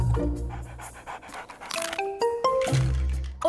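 A large cartoon dog panting and huffing in an animated children's show, quick breathy pants over busy music with bright tonal accents and light clinks.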